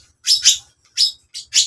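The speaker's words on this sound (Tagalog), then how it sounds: "Good bird!" A pet bird in training gives four short, bright chirps close by, two in quick succession and then two more after a brief pause, with no other sound around them.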